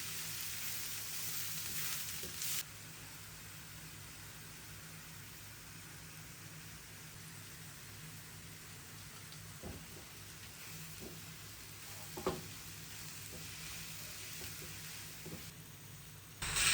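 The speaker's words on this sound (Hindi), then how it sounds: "हम इसको तब तक भुनेंगे जब तक ऑनियन और स्टॉक एक साथ मिल ना जाए" Sliced onions sizzle steadily in a pan with a chicken stock cube, a soft continuous crackle with a few louder pops and stirring knocks, no voices over it.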